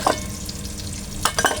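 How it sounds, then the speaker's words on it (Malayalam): Turmeric, chilli and coriander powders fry in a pan with a steady close sizzle, while a spoon scrapes and stirs in a few short strokes. "ഇതെല്ലാം ഇട്ടിട്ട് നമുക്ക് ഇതൊന്ന് നല്ലോണം മൂപ്പിച്ചെടുക്കാം."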